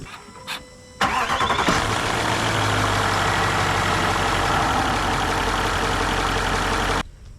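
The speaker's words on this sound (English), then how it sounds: "I'm going to start the car and run it up to temperature" A Range Rover L405 engine cranks and fires at once, settling into a steady, close idle that runs evenly for about six seconds before stopping abruptly.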